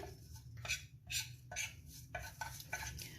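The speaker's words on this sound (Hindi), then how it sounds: "पहले इन सबको मिक्स करते हैं अच्छे तरीके से" A spoon stirs chicken marinade with vinegar in a bowl, making about half a dozen rhythmic scraping strokes that are close and fairly soft.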